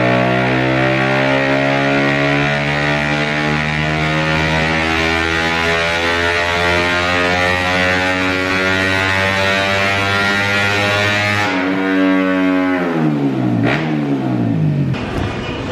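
A Honda Grom with a Koso 170cc four-valve engine revs hard on a dyno, its loud buzzing note climbing steadily toward the top of its range. The engine then drops off sharply and blips again near the end, alone and very close.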